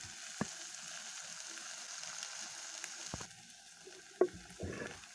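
Ponnaganti greens frying in a pan, a steady soft sizzle running throughout with a couple of brief clicks and scrapes near the end.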